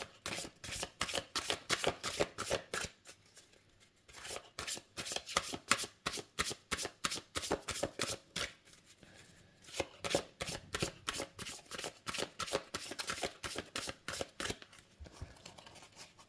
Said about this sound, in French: pour battre, c'est pas très pratique d'avoir des grandes cartes comme ça.